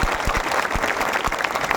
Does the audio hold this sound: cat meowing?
no